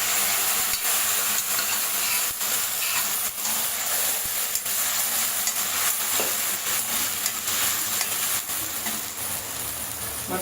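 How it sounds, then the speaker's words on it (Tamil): Boiled mutton goes into a hot curry-leaf tempering, a dense continuous sizzle and hiss close by with repeated sharp stirring scrapes and knocks throughout, no voices. "தாளிப்பு சேர்த்துட்டு வேக வச்ச மட்டனை இது கூட சேர்த்துக்கலாம்."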